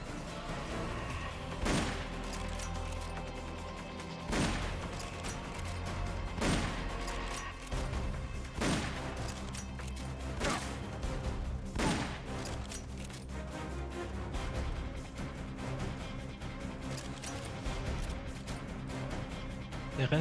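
Gunfire and rocket launchers in Metal Gear Solid: Peace Walker HD, a series of heavy blasts spaced a few seconds apart over a constant game music and ambience bed, fairly subdued overall.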